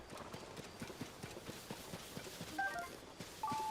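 Horse hooves clip-clopping in Zelda: Tears of the Kingdom, a quiet, steady rhythmic trot of soft hoof beats, with a few brief chiming tones near the end.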